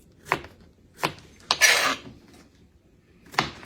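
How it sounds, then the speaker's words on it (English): A knife slicing vegetables into quarter-inch pieces on a cutting board, heard as four sharp, separate cuts spaced irregularly, with one longer scraping stroke in the middle; close and fairly quiet. "what all we're going to do with these is just slice them about 1/4 inch"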